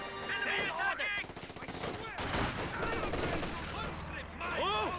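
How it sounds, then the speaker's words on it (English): Machine-gun fire from an MG34 in a Company of Heroes 2 battle, with rapid bursts and scattered gunshots mixed into dense battlefield noise, with a voice talking over it throughout. "MG34."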